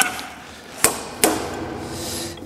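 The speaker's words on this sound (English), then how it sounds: "So what you do with these is take your slide hammer," A slide hammer drives moisture meter pins into a drying wood board, giving two sharp metallic impacts about half a second apart, close and loud over a quiet background.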